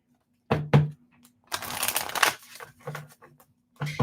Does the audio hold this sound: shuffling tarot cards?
yes